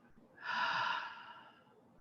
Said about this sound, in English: a deep breath in and a deep breath out